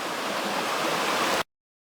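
Waterfall in Shenandoah National Park beside a hiking trail: a steady, full rushing roar of falling water, even and unbroken, which stops abruptly before a short silence.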